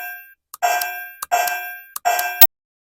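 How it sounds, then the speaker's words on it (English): A reactive laser training target chimes three times in a row when hit, each a bright ringing tone that rings briefly and decays, with short gaps of silence between. "it reacts with the chime."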